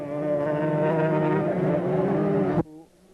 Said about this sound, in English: who is riding the Gilera motorcycle right now